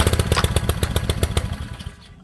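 A Champion 3200psi pressure washer engine being turned over by its pull cord, rapid rhythmic chugging compression pulses that slow and die away near the end, close and fairly loud.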